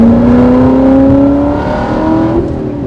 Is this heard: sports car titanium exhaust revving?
yes